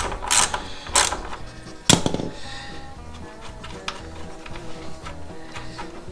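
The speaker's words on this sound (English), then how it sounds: "We might have to use 2 wrenches on the bolts on the other side." A wrench ratchets and clanks against bolts on an old box tractor, with several sharp metallic clicks and knocks early on, then quieter scattered rattles close by.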